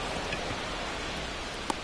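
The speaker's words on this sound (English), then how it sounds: "This rain is not letting up." Steady rain falls at a ballpark in MLB The Show 25, a dense even hiss of drops with one faint sharp tick near the end and no voices.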